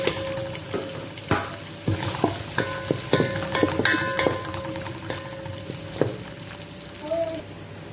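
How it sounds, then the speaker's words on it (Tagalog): Onions sauté in hot cooking oil in a pan, a steady close sizzle broken by sharp stirring clatters and scrapes of the utensil against the pan, with no talking. "Igisa tayo."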